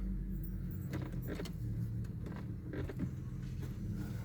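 A BMW 525d E60 diesel saloon, serviced for a battery-drain recall, has its ignition switched back on: faint key jangles and soft clicks over a quiet interior hum.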